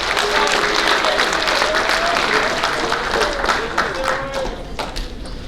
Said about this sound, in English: Let's give those JV boys one more round of applause.